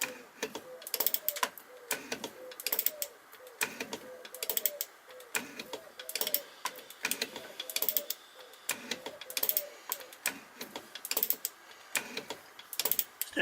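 A hand-operated metal shaping machine cutting chips from a workpiece, with repeated rhythmic strokes of clicking, ratcheting and scraping at a regular pace, close up and without speech.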